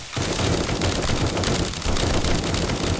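Sustained automatic gunfire in the zombie survival game 7 Days To Die, a dense continuous burst of rapid shots filling the whole moment, loud and close with no talk over it.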